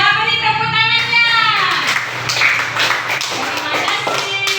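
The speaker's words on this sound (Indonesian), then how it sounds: "Iya, beri tepuk tangannya." A classroom of students clapping together on the teacher's cue, quick dense hand claps rising in a burst and continuing steadily, with children's voices mixed in near the start.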